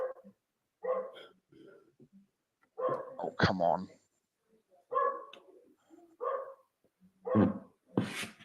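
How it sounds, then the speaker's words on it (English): A dog outside barks repeatedly in short bursts at a steady distance, separated by brief silent gaps, while a person talks briefly between the barks. "It's a dog outside. It doesn't shut up."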